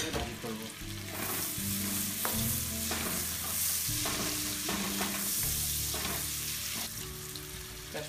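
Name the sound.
onion, bay leaf, cardamom, cinnamon frying in butter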